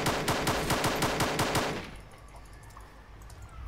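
Arma 2 DayZ automatic gunfire, a loud, close burst of evenly spaced rapid shots lasting about two seconds, then fading into quiet ambience.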